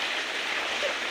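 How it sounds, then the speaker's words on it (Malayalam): Rain falling steadily outside, a dense, even hiss with no break over the short stretch, fairly close and alone without voices. "മഴ കാരണം പുറത്തേക്ക് ഇറങ്ങാൻ പറ്റില്ല അല്ലേ കുറുമ്പി?"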